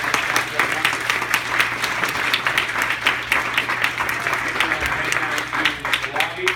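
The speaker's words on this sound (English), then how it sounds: "last round of applause for you guys" A conference audience gives the panelists a last round of applause, dense clapping with a few sharper individual claps standing out over a low steady hum.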